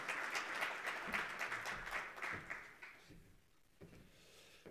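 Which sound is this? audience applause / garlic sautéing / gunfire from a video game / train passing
audience applause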